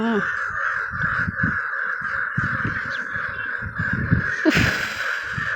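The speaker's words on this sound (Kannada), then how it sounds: "ಈ ಎರಡು ಕಾಗೆ ಕಿತ್ತಾಡ್ತಾ ಇದೆ" Two or more crows caw harshly and repeatedly at close range, fighting in an agitated squabble, with a sudden louder flurry near the end.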